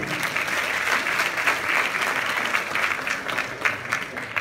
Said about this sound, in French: On peut d'ores et déjà les applaudir